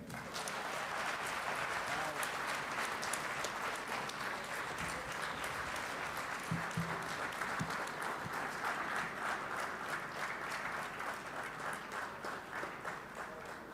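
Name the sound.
audience applause for the President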